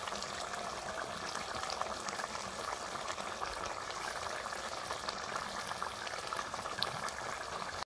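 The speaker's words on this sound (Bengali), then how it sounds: "ঝালটা ফুটে গেছে" A pan of Bengali mustard-poppy seed curry for pabda fish bubbles at a steady, vigorous boil, the thick bubbling continuous and close with no other sounds.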